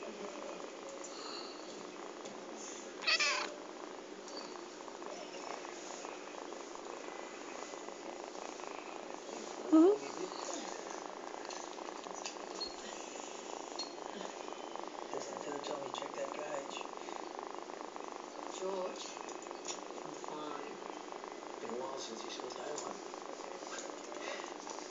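A low, steady purr runs close and continuous throughout, with a couple of brief soft knocks breaking through.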